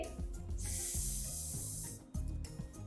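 A voice imitates a snake's hiss with one long, steady, airy hiss lasting over a second, set between soft bursts of background music.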